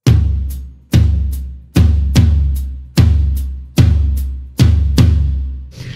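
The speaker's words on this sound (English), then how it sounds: "So if we were to transfer those accents to the toms instead of symbols, it would sound like this." Drum toms struck in a repeating 7/4 pattern with Thai-style accents, deep resonant booming hits alternating with lighter strokes, close and loud with nothing else playing.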